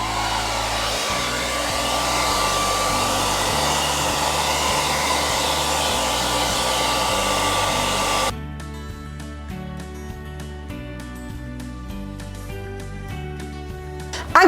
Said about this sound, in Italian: accendo il phon e vado ad asciugarlo leggermente